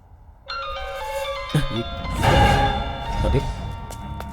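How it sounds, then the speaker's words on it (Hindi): Mobile phone ringtone in a Hindi-dubbed South Indian film, a tonal melodic ring starting abruptly and continuing under a thud and a swoosh, with film sound effects layered over it. "अरे भाई का फोन आ रहा है यार"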